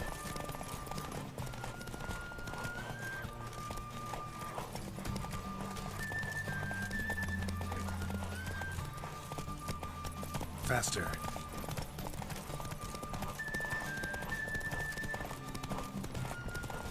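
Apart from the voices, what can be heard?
horse galloping in video game The Witcher 3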